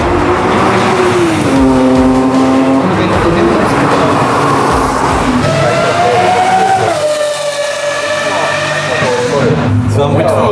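Honda track car at a Japanese car meet, its engine revving and accelerating loudly, rising and falling pitch sweeps close by, with other cars' engines around and people talking over it.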